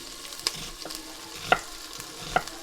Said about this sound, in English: I'm going to add some onions and garlic and get it going.